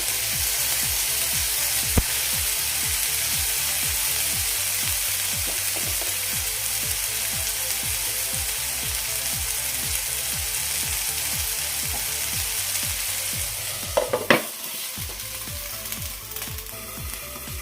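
Spices sizzle and fry steadily in a covered pan while preparing an egg dish, a loud continuous crackle with a few brief clanks of utensil or lid near the end.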